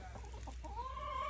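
Farm chickens cluck softly and briefly, a short run of rising, moderately distant calls over a steady low background rumble.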